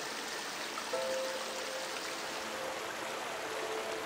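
Sunwapta Falls in Jasper National Park, where the Sunwapta River cascades forcefully into a narrow gorge, gives a steady, distant rushing roar of falling water with no voices.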